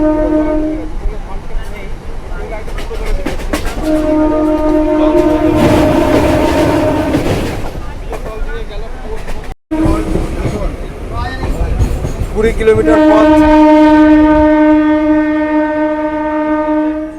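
A new local train on the Katwa to Barddhaman line rumbles and clatters close by, sounding two long horn blasts, one in the middle and one near the end, while someone talks over the noise.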